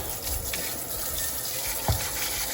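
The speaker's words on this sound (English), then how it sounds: "Okay, we're just gonna rinse these out." Pumpkin guts and seeds are rinsed under running tap water, a steady close splashing gush into a sink, with a brief louder splash near the end and no talking.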